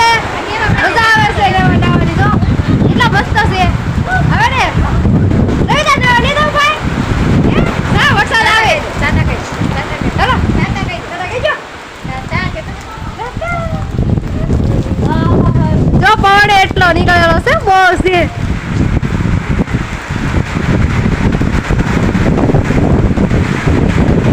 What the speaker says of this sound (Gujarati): પવન વાવાઝોડું છે